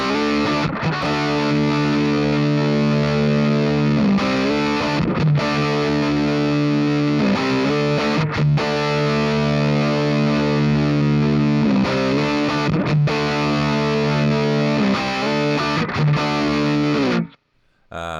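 Electric guitar run through a DIY Fat Rat distortion pedal with its clipping switch engaged, heavy, bright, sharp distorted chords played steadily and loudly with brief gaps, alone, ending abruptly.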